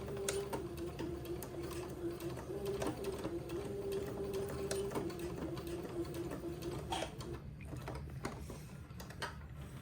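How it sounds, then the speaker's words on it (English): A sewing machine tacking elastic runs in steady rapid stitching bursts with mechanical clicking, close by, then stops, leaving a few light clicks. "with my sewing machine, I will tack that elastic into place"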